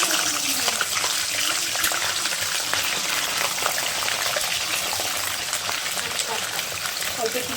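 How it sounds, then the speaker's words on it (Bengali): Vegetables frying in hot oil with salt and turmeric, a steady broadband crackle and hiss running unbroken throughout at moderate level with faint background clatter. "এই যে তেল গরম হয়ে গেছে, এখন তেলে সবজিগুলো সব নুন হলুদ দিয়ে ভেজে নেবো।"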